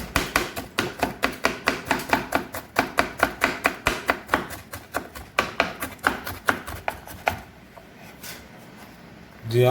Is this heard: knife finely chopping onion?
yes